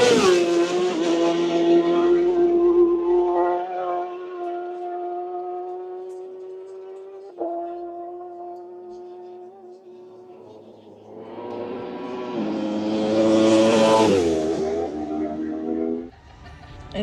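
Isle of Man TT racing motorcycles pass along a narrow road, each one a loud, high-pitched engine wail that rises as it approaches and fades after it passes, with two passes separated by a quieter gap.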